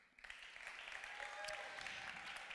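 Audience applause fills a hall at the final of a German science slam championship in Dortmund, steady clapping from a large crowd that swells quickly and holds at an even level.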